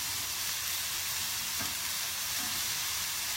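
Small round chicken patties fry in a dry pan with no oil or butter, giving a steady, continuous close sizzle that holds at an even level throughout.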